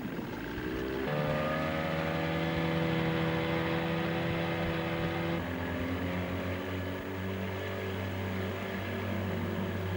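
A boat motor drones steadily on the water off the Kimberley coast in 1976 while trolling lures, a constant humming engine note with a slight pitch shift partway through.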